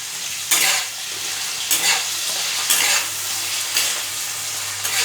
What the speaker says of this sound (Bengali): আলুগুলো একটু লাল লাল মতো ভাজা হবে